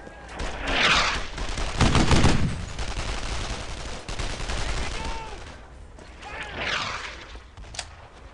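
Rapid gunfire and machine gun bursts in the World War II shooter Brothers in Arms: Earned in Blood, surging in loud waves amid battlefield crashes, with voices shouting over the combat.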